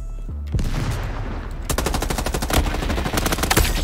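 An M4 rifle in Roblox Frontlines lets loose a long, dense string of rapid shots after a brief pause, loud and close, the bursts running almost without a break.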